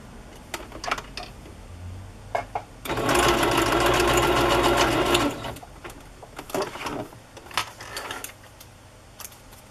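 A sewing machine stitches through strips of paper in a single steady burst of about two and a half seconds, loud and close, with light handling clicks and rustles before and after.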